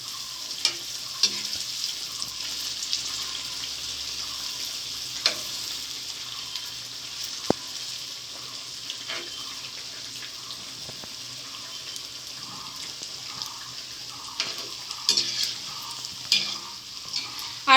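Mango fritters (aamer bara) frying in oil, a steady close sizzle with occasional stirring and clinks throughout, no talking.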